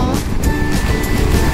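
Sea waves at Marina Beach in Chennai rumble under cloudy skies as heavy, continuous surf, loud and close with wind buffeting the microphone.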